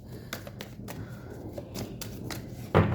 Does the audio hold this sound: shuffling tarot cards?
yes